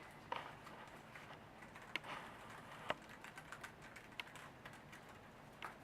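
Light, irregular key clicks come from typing on a Kano tablet keyboard, quiet and close, with short bursts of taps and small pauses between them.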